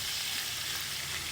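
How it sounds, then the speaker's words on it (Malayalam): Marinated prawns frying in coconut oil, a brief, steady hiss of sizzling heard close and fairly quiet with no other sounds. "ജസ്റ്റ് ഒന്ന് ഫ്രൈ ചെയ്തെടുക്കുക."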